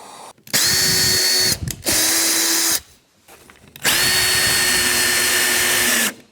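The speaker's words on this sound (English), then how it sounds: "I'm gonna go ahead and put this bolt in, and then I'll finish that last one." Power drill driving a bolt while installing a wear bar kit on a Shappell Jet Sled HD, three loud sustained bursts with rising whine and brief pauses between, close up.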